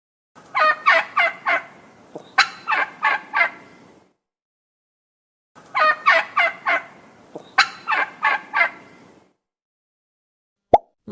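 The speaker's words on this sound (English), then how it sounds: "Turkey." A turkey gobbles in two loud, close bursts, each a rapid burbling run of several notes, with a pause of silence between them and a brief sharp click at the very end.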